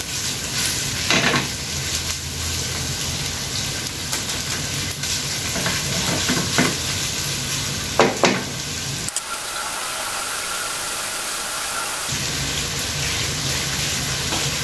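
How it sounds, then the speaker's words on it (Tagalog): Ground meat sizzles and crackles steadily as it fries in a pan for spaghetti, with occasional stirring clatter, a brief softer lull in the middle, then full sizzle again, close and without speech. "Lutuin lang natin mabuti yung ating giniling, no? Yung tipong lumalabas na yung kanyang mantika para siguradong luto yung ating pangsahog."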